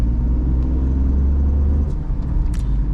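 A Tata Tigor CNG car pulls onto a highway in second gear, its steady engine rumble and road noise loud and close throughout, with no talk.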